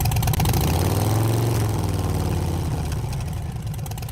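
A motorcycle engine with a slip-on muffler idles at close range, a dense, loud, continuous exhaust burble that eases slightly toward the end.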